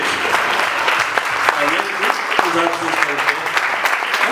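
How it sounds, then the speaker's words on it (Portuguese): A church congregation applauds steadily, a dense wash of clapping from many hands, with a voice speaking faintly underneath. "Vamos aplaudir Jesus, amados?"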